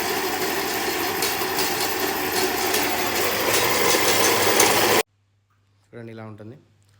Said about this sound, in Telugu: అందుకే చిన్న ఎలక్ట్రిక్ మిషన్ కనుక్కున్నారు అనమాట